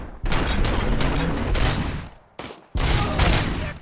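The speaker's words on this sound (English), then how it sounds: "Boom. Boom. I'm firing." Rapid bursts of gunfire in the Robocop: Rogue City video game, loud and dense, running in two sustained volleys separated by a brief pause.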